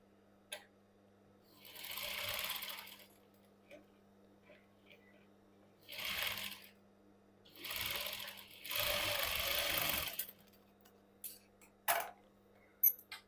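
A sewing machine stitches a princess cut blouse in quiet bursts, several separate runs of rapid chatter with pauses between, plus a few small clicks near the end.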